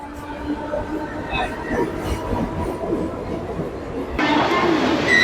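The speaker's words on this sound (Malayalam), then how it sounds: "ഇനി അതേ ട്രാക്കിൽ ഇപ്പൊ" A Mumbai local train arrives on the track, a steady loud rumble of rolling cars that swells near the end as it draws close.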